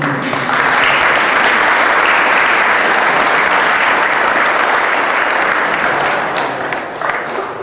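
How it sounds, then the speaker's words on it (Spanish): Sustained audience applause at a Bible study course, a dense, steady wash of many hands clapping that fills the whole stretch at close range and fades slightly near the end. "un aplauso para estas dos valientes."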